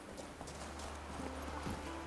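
Roach the horse clip-clops along in The Witcher 3, a quiet, steady run of hoofbeats at walking pace, faint and alone.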